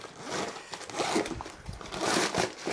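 A zipper is pulled in several short raspy strokes, close by, with faint handling rustles between them.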